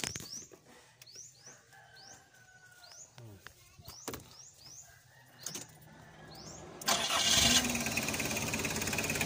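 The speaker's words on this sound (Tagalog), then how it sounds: "So yun guys, one click umandar na siya." A Nissan engine that has been hard to start and smoky cranks with a rapid whirring starter, then catches and settles into a loud running roar; birds and sheep call in the background and a person speaks.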